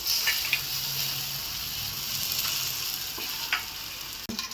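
Bottle gourd thalipeeth frying on a pan gives a steady, close sizzle throughout, with a few faint clicks and a brief clatter near the end; no one speaks.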